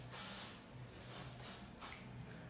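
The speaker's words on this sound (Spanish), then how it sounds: "su perfume Club de Nuit en aerosol" Short hissing bursts of Club de Nuit Intense for Men aerosol body spray, several quick pumps in a row, soft and close with a low hum underneath.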